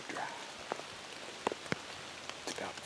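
Rain falls on a windy mountainside, a soft steady patter close by with a few sharper drops tapping now and then.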